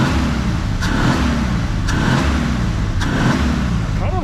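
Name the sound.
1954 Plymouth Savoy six-cylinder engine running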